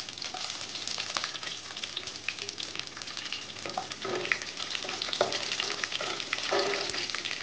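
Garlic sizzling and frying in a hot pan for a snake gourd kootu, a steady close crackle with small pops throughout and no talking.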